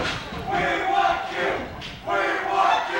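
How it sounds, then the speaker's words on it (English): A wrestling crowd at a UWF event in Las Vegas chants in rhythmic, swelling bursts, the massed voices rising and falling in repeated waves at fairly close range. "The crowd chanting that they want Q, the newcomer here to the UWF."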